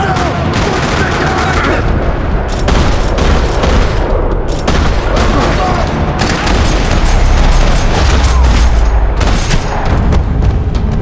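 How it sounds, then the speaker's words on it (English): Dense, continuous gunfire in Max Payne 3 rattles and booms across a parking lot for the whole stretch, loud and chaotic, with overlapping bursts and heavy thuds. "Another parking lot rattling with gunfire."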